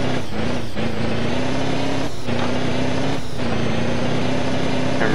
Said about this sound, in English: those semi truck drag racing uphill with a bunch of load on, right here it's gonna sound like that